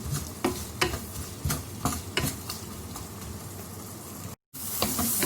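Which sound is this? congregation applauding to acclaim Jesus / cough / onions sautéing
onions sautéing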